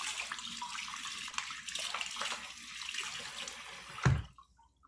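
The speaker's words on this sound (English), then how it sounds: "Sorry if that water was too loud." Tap water runs steadily into a sink while salmon is rinsed of residual blood, a close, continuous splashing rush that cuts off abruptly near the end, leaving a few faint drips.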